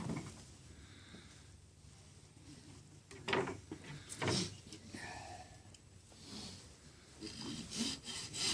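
A knife saws through a thick bone-in blade chop of meat in a series of rough, scraping strokes, quiet and close up, with short pauses between the cuts.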